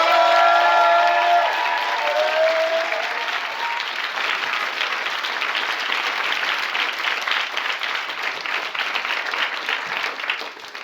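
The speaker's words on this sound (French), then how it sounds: "je vous demande de les applaudir" Sustained applause from a union-conference audience for young worker activists, a steady wash of many hands clapping throughout, with a few voices fading out at the start.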